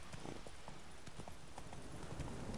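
Horse hooves clip-clop in steady rhythm in The Witcher 3 video game as the rider travels, a continuous trotting patter under a dense, noisy game soundscape.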